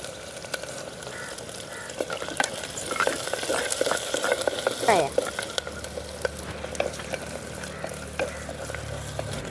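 Mustard seeds, crushed ginger and a piece of cinnamon fry in hot oil for horse gram rice, a crackling sizzle broken by clattering stirs of a spoon against the pan, with no talking.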